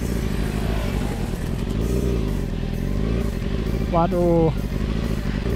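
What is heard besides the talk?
Yamaha R6 sport motorcycle engine revving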